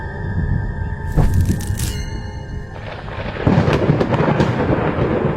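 Thunder before rain: a sharp crack followed by deep rolling rumbles, with a second heavy boom a couple of seconds later, loud and near.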